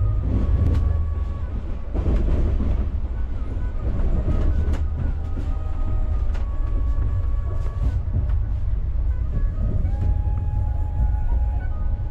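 The Mumbai Mail passenger train, travelling from Dhanbad toward Kolkata, rumbles steadily as heard from inside a carriage, with continuous low roar, rattling and faint rhythmic wheel clatter throughout.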